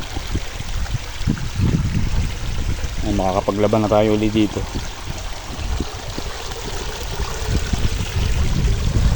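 Steady rushing of a mountain stream after a typhoon flood throughout, with someone speaking briefly in Filipino partway through over the continuous flow.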